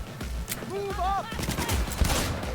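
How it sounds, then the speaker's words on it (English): Close-range gunfire in the Cyberpunk 2077 video game, bursts of rapid shots mixed with game sounds and a shouted voice, close and fairly loud amid the busy action. "Firing at close range!"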